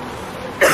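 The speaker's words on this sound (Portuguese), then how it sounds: "A tosse do inverno pegou você?" A single sharp cough bursts out at the end after a stretch of quiet room noise.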